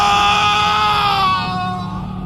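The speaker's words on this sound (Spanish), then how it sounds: "Jesús lanzó otro fuerte grito" A man lets out a loud, sustained anguished cry, strong and close, trailing off over about two seconds, alone with no other talk.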